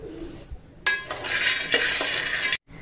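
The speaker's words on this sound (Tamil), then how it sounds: "அதே சட்டியிலே பாதாம் வறுக்கிறோம்." Almonds are dry-roasted and stirred in a pan on the stove, a close scraping rattle of nuts against metal that starts abruptly, continues steadily for under two seconds, then cuts off.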